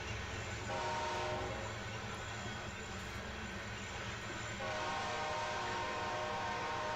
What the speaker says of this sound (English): there it is, 1943. The World War II heritage unit for the Union Pacific.